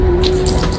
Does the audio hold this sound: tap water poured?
yes